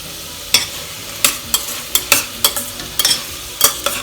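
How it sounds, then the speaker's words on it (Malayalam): Tomato and masala sautéing in a pan for pearl millet khichdi, with repeated close spatula scrapes and stirs at an irregular rhythm over a soft background sizzle. "തക്കാളിയും ചേർത്ത് നന്നായി ഒന്ന് വഴറ്റി യോജിപ്പിക്കാം"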